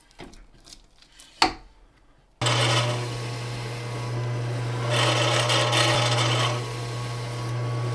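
Smoked beef jerky is cut on a meat slicer set to a thin gauge. A sharp click comes first, then the slicer motor starts with a loud, steady hum and a grinding rasp that swells and fades as slices pass through.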